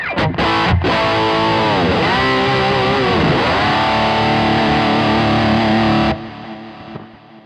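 A distorted electric guitar rhythm part played through a Quad Cortex pedal, thick with echo, sounds loud and steady for about six seconds before cutting off and leaving a short, fading tail.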